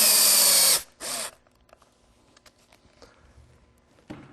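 A power drill whines loudly in two bursts, one long and one short, while driving ice racing screws into a motorcycle tire, followed by faint clicks and handling noises.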